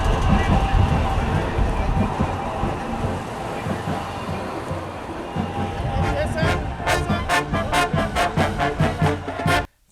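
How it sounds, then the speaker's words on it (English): Metro Expo light rail train running along the line in Los Angeles, a steady loud rumble and rush that builds into rapid rhythmic clatter toward the end, then cuts off. "The image you're looking at comes from the recent opening of the MTA's Metro Expo line."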